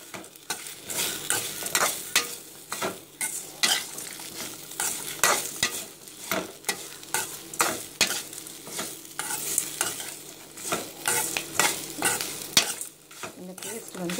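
Onions cooking in a pan, being stirred with a utensil. A steady sizzle runs under repeated scraping and stirring strokes, close and fairly loud, with no talking.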